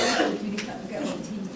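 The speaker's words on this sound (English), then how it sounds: "Sorry about that cough." A person coughs hard several times at a community summit meeting, rough bursts close to the microphone with a throaty rasp over a noisy room.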